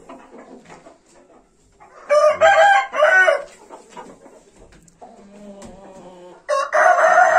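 Roosters crow in several loud, close bursts, each lasting about half a second, separated by quieter stretches of farmyard background.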